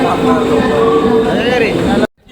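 Loud, steady rumble of a train at Dadar station platform with people talking over it, a brief squealing tone near the end before it cuts off.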